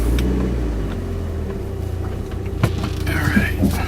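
A Mitsubishi Lancer Evo 5 (CP9A) pulling slowly away from a driveway, with a low, steady engine rumble and road noise heard from inside the cabin and a few faint knocks.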